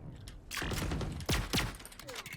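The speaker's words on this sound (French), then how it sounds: "Le sound des tirs." Gunfire in the video game Valorant: a few sharp shots and bursts over a couple of seconds, with quieter clicks and mechanical handling noises in between, fairly close and moderately loud.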